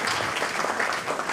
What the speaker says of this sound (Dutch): Applaus voor Wim.